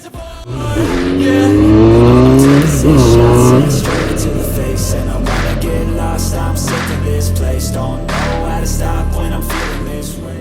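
Yamaha FZR1000 motorcycle ridden on a cold day on brand new tyres, its engine revving up in rising sweeps, then holding a loud steady drone with some wind noise.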